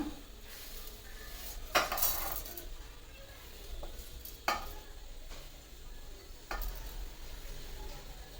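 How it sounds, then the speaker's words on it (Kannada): Onion, tomato, coconut and spices clatter into a mixer jar with a few sharp knocks and scrapes against its sides, amid quiet kitchen background noise. "ಈಗ ಈ ಮಸಾಲೆ ಎಲ್ಲ ಹಾಕ್ಕೊಳ್ಳೋಣ ಮಿಕ್ಸಿ ಜಾರ್ಗೆ."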